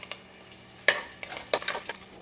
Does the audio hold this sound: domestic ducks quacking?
no